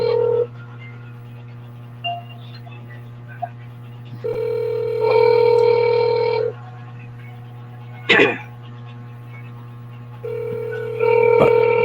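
A cellphone rings during a meeting, its electronic ringtone sounding in repeated tonal bursts over a steady low hum, with voices talking nearby.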